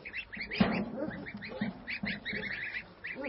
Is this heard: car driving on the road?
no